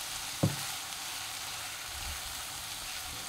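Onion, ginger and garlic sautéing in a pan for Bengali kakrol kalia, a faint continuous frying hiss with one brief utensil knock near the start, quiet and close, no speech.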